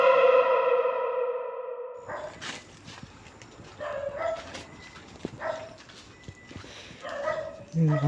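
A dog barks several times at an abandoned gas station, the barks echoing and muffled amid rustling and handling noise, with a voice nearby.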